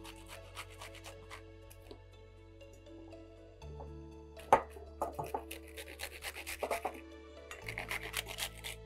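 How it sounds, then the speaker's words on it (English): Food is rubbed against a hand grater in a home kitchen, making faint, repeated rasping strokes in irregular bursts over a low steady hum. No one talks. "when you use grater and grate it"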